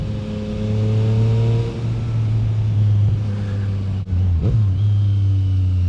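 Yamaha MT-09 SP motorcycle with an aftermarket exhaust and quick shifter, a loud steady engine drone rising and settling through revs, with a brief dip and blip around a shift, close and alone.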